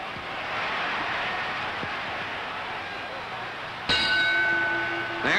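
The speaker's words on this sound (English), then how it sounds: "There's the bell, ending a close round." Boxing ring bell ending a round of a 1953 heavyweight title fight, Rocky Marciano against Roland La Starza, a sharp clang with a sustained ring rising over a roaring stadium crowd, then a second strike.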